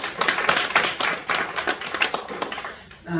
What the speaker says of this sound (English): So I think we should applaud them all.